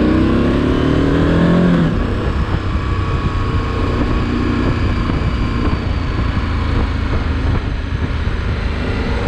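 A Moto Guzzi V85 TT motorcycle engine rumbles and revs while riding, with wind buffeting and shifting pitch as the bike accelerates, loud and close throughout.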